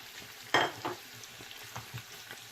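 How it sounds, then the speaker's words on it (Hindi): A spice mixture of red chili powder, garam masala, chili flakes and salt fries for mutton yakhni pulao, with a sharp sizzle burst as it is stirred, then softer intermittent crackling. "अच्छे तरीके से हम इस सारे मिक्सर को हम भूनेंगे।"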